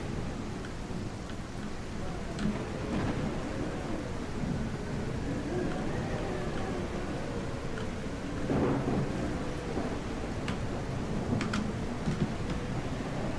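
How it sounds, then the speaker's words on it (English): Rain pours steadily in the video game CastleMiner Z, falling on a water surface, with rolling thunder rumbling through, a continuous hiss punctuated by a few deeper swells. "if I change this to rain, the rain actually affects the water surface"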